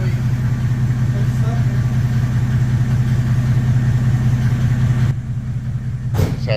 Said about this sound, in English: Just had to take off the muffler. We put the old 606 in my Toyota.